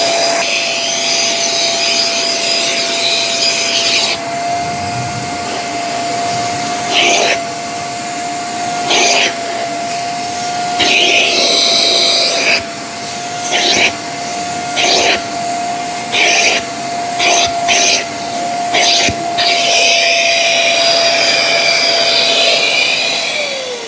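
A Shark CarpetXpert HairPro EX301 carpet cleaner runs in StainStriker mode with a steady, loud motor whine and a constant tone, cut by repeated bursts of spray or suction hiss, then winds down at the end.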